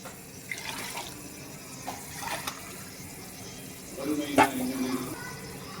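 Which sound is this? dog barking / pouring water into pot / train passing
pouring water into pot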